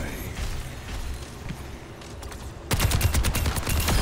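Rapid automatic gunfire from a cheating Soldier using an aimbot in Overwatch, with faint shots and game noise at first, then a dense, loud burst of rapid shots kicking in sharply near the end.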